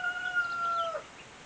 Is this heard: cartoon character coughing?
no